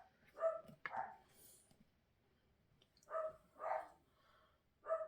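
Dogs bark in short, fairly faint bursts, a pair of barks early on and another cluster of two or three a couple of seconds later, with quiet gaps between.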